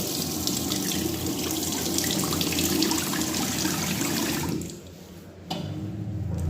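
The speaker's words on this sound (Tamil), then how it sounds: "இதில் கையை கொடுத்தா சென்சரில் தண்ணி வரும்" Steady rush of water pouring from a sensor-activated tap into a sink in a public toilet in France, running continuously, then cutting off briefly near the end before resuming.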